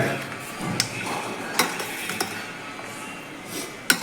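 A utensil stirs lemon rice in a pan, giving soft scraping and a few sharp metallic clinks over a low background hiss, with no talking.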